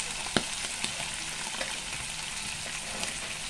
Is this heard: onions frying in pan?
yes